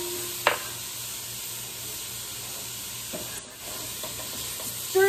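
Shallots and salt fry in a pan, a soft steady sizzle broken by a few light scraping stirs of a spoon against the pan.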